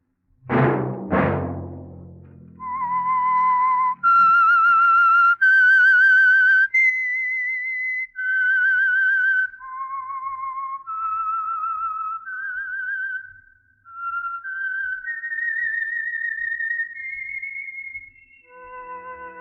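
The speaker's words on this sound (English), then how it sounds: "Let that whistle be your signal for the Signal Oil program, The Whistler" On a radio mystery program, a lone whistler performs the eerie theme signal: two sharp opening notes, then a slow, clear melodic line of sustained pitches that rise and fall, in a quiet setting with no talk.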